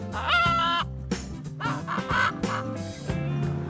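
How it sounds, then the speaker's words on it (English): Parrots or similar birds squawking and calling at close range on Roatan island, Honduras, loud harsh repeated calls in bursts, with no talk. "Now it's time to chill with some birds."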